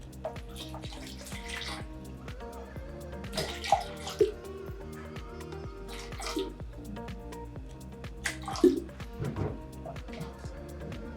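Water is poured from a plastic bottle for a homemade sensory bottle, giving a soft trickling and splashing with a few louder glugs and bursts, fairly quiet and close.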